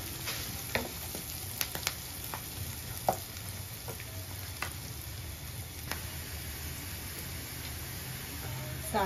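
Chopped tomatoes hitting hot tempering oil with fried spices for a bitter gourd tomato curry, a steady low sizzle with occasional stirring clicks and ticks, fairly faint and continuous, no talk.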